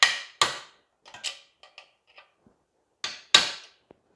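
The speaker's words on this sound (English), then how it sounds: "Get us a hammer and a punch, and we'll just ease it around." A hammer strikes a punch against a Honda scooter part in a garage, giving a handful of sharp, close metallic taps in small irregular clusters separated by silence.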